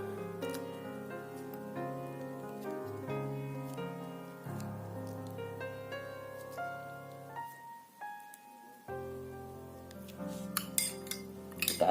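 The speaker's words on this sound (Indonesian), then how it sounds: "Kita aduk lagi." Spoon stirring a honey cough remedy in a glass, with light clinks against the glass, faint and mostly in the background under continuous music, the tapping growing more frequent near the end.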